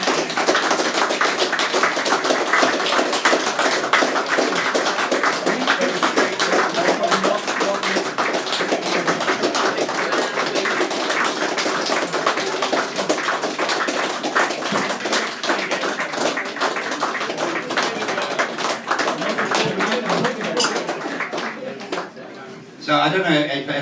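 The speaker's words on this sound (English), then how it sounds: "if the four politicians could come up with a big round of applause, please" Sustained applause for four politicians at a live debate event, dense and continuous clapping from an audience filling most of the stretch, briefly dipping near the end before resuming.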